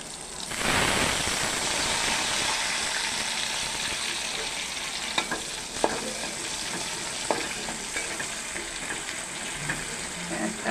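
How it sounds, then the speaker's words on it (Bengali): Onions fry steadily in a pan with a dense, even hiss that runs throughout, broken by a few faint utensil clicks. "পেঁয়াজটা ভালো করে ভেজে নেব,"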